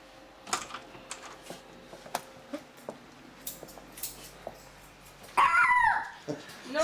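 A dog's short sharp sounds and clicking paws repeat irregularly, with a louder burst of yelping or whining near the end; no talking.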